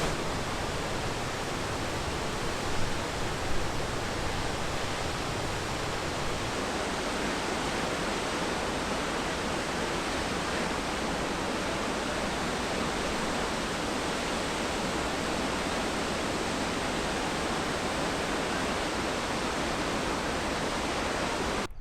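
Mist Falls in Kings Canyon National Park roars as a broad, continuous wash of falling water, loud and steady throughout with no voices.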